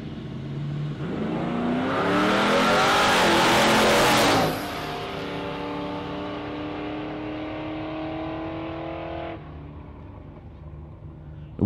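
A Commodore and a big Chev launch down a drag strip at Warwick Dragway, engines roaring loud and rising, peaking in a blaring burst, then settling into a sustained fading drone as the cars run away.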